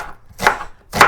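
Knife slicing onion thinly on a board, two or three crisp chops in close succession, near and distinct, with no voices.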